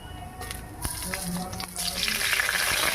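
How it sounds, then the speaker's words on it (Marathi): Cumin seeds dropped into hot oil in a kadhai after potatoes were fried, a brief clatter and tap followed by a quick rise into bright, crackling sizzle up close. "मग तेलात बटाटे काढून तेलात जिरे टाकून जिरे करून घेऊया"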